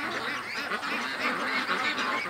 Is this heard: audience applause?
no